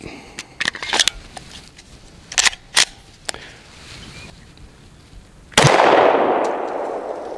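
Glock 17 pistol fired at a target 10 yards away: several sharp, loud cracks in an irregular cluster, then one heavier blast with a long, noisy decaying tail.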